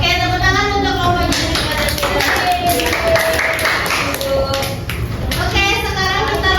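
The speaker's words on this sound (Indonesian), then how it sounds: "tepuk tangan untuk kelompok" Students in a classroom lesson clap for a group, a dense patter of hand claps under children's voices and chatter, steady and close throughout.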